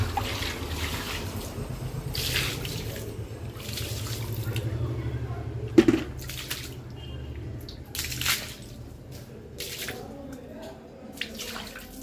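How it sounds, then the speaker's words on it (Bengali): Phenyl water poured over a veranda floor and mopped, continuous splashing and sloshing of water with repeated wet swishing strokes, a few sharper knocks along the way. "জলটা ঢেলে দিয়ে এই যে মপ দিয়ে টেনে"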